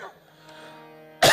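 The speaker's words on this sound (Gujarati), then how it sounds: "ઉધરસ આવી" A man's single sharp cough bursts out at the end of a short stretch of quiet, close and loud, during a spoken Gujarati poetry and storytelling talk.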